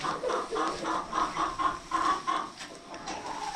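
Egg-laying hens clucking inside a small coop set up in the old kitchen of an adobe farmhouse, a steady run of overlapping clucks and murmurs, close and moderately loud, with no talking.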